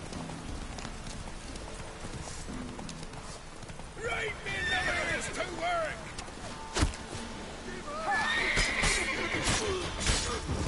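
Horse in the Witcher 3 video game clip-clops steadily, then neighs and whinnies twice in the second half, with a person talking over it in places.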